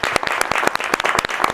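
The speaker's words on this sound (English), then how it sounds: "Let's clap for that." Brief burst of clapping from a live talk-show audience, sharp separate claps in a quick uneven rhythm, close and fairly loud.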